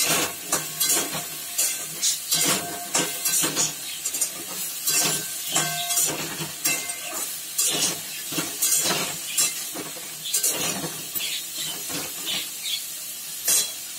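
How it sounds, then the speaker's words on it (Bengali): A dried red chilli tempering sizzling in hot oil, a steady crackling hiss broken by repeated scraping stirs and clinks of the utensil against the pan. "একটা শুকনো লঙ্কা ফোড়ন দিয়েছি।"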